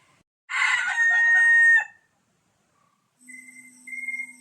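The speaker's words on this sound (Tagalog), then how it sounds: "yan po yung sinasabi kong mga heritage chicken" Heritage chickens on a farm: a rooster gives one loud, close crow lasting about a second and a half, then after a pause softer clucking calls follow.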